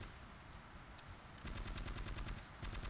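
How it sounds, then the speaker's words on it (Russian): Rapid bursts of gunfire from the Ravenfield video game in a desert city battle, with repeated close shots that thicken into a dense automatic volley in the second half, loud and without talk. "враги уже по нам жестко начинают отстреливаться"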